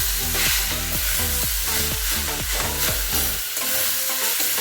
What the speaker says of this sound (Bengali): এবার এটাকে ভালো করে মিক্স করে নেব আলুর সাথে